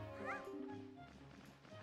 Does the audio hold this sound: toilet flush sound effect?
no